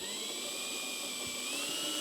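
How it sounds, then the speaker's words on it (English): A power drill bores 9/16 inch holes for motorcycle fairing lights, giving a steady, close, continuous high whine that rises slightly in pitch toward the end. "we're just going to drill these holes here"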